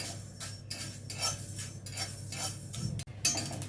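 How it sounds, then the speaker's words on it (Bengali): Spices dry-roasting in a hot iron wok are stirred with a metal utensil, producing repeated scraping strokes and light clinks against the pan, close and fairly quiet, with no talking. "এবারে একটি লোহার কড়াই গরম করে নিয়ে আমি মশলাগুলো সামান্য শুকনো খোলায় ভেজে নেব"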